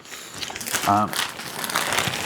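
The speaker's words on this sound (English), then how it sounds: "So we've got a plastic bag on it." Plastic bag wrapping on a Neewer Pro camera backpack is handled, giving close, continuous crinkling and rustling that runs under a brief spoken phrase.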